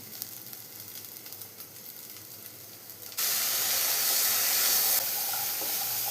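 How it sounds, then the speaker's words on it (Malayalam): Cooked chickpeas drop into a hot pan with a sudden loud burst of sizzling and hissing that steadies into continuous frying, close up with no talking. "ഇനി നമുക്ക് ഇതിലോട്ട് വേവിച്ച് വെച്ച് കടലയും കൂടെ ചേർത്ത് കൊടുക്കാം."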